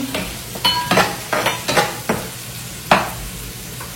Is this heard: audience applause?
no